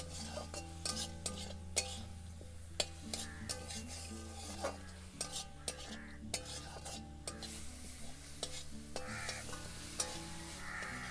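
Onion and tomato fry in a pan while a utensil stirs them. Repeated scraping strokes and soft clinks sit over a low, quiet sizzle, with a faint steady hum behind.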